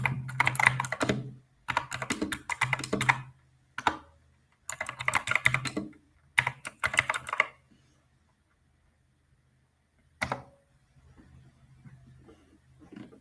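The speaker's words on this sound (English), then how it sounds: "So let me just type it." Bursts of typing on a computer keyboard, clusters of quick clicks separated by pauses and near silence, fairly close and alone with no talk.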